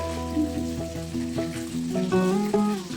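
Bhetki fish pieces frying in oil in a kadai, a continuous sizzle running under steady tonal background sound, with no speech.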